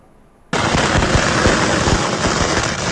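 A dense, continuous barrage of firecrackers erupts suddenly after a brief quiet moment, loud, crackling, and popping without pause, as a temple's king boat is burned at a festival in Tainan, Taiwan.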